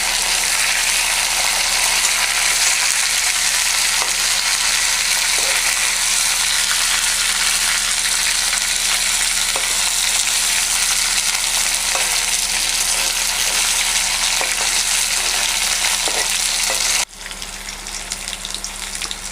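Hilsa fish heads frying in oil over a medium flame make a loud, dense, continuous sizzle up close. It drops sharply in volume near the end.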